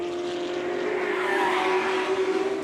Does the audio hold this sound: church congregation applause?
no